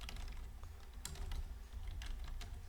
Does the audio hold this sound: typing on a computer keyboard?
yes